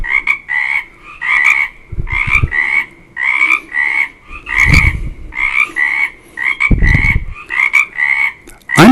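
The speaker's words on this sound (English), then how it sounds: "Hear those frogs?" Frogs croak near a pond in a steady, repeating chorus of loud, close calls, with brief low rumbles now and then underneath and no talking.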